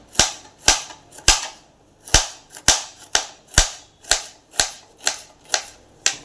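A knife chops ridge gourd on a cutting board in a brisk, fairly regular series of about fourteen sharp, close knocks with short pauses between them.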